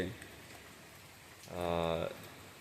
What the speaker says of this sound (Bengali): বৃষ্টি পড়তেছে, টানা বৃষ্টি